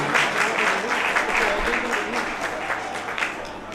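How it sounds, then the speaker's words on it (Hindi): Audience applause at a foundation-day ceremony of a youth council: a dense, continuous wash of clapping that holds steady throughout, with a faint voice murmuring underneath. "पंच में आते एक बार जोरदार तालियां"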